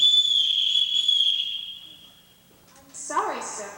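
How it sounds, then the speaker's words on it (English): A sharp, high-pitched signal whistle from a stage production of The Sound of Music blows steadily for about two seconds and then fades, followed by a voice speaking. "I could never answer to a whistle."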